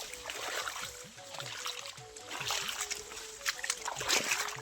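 Irrigation water runs through a castor field outdoors, giving a steady, moderately quiet rush with soft splashing and sloshing spread across the whole stretch.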